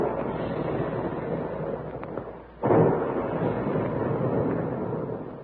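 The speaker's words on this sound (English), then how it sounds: "And there go the big guns" Radio-drama sound effect of big guns firing: a dense, rumbling roar of booms with a sudden heavier blast partway through, loud and continuous, with no voices.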